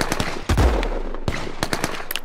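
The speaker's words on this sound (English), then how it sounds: "Suddenly, gunshots." Loud gunshots and bursts of machine gun fire in a city centre at a protest, with one heavy booming blast followed by rapid sharp cracks and rattling volleys close by.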